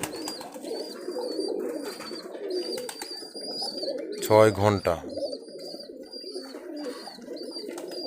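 A Giribaz homing pigeon, a local Rajshahi high flyer, gives a brief burst of cooing midway, close and fairly loud, with someone talking before and after it.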